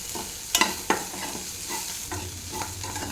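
Cluster beans fry in oil in a pan, a steady soft sizzle broken by a few sharp scrapes and clinks of a spoon stirring, close and fairly quiet.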